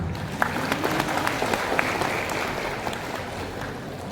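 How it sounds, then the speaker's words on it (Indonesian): Audience applause at a lecture on prophetic leadership: a dense, sustained patter of many hands clapping with a few sharper individual claps, steady throughout and heard alone without speech. "Tepuk tangan."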